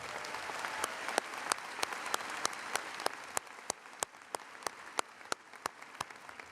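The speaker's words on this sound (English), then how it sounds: "Let's give her a round of applause." An audience at an undergraduate spring commencement ceremony claps in a steady, even wash of applause, with sharper individual claps standing out; the sound is fairly quiet and distant.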